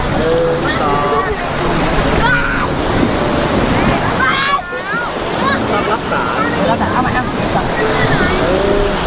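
Sea waves wash and roar continuously beside a boat, with wind buffeting the microphone and voices calling out over the surf.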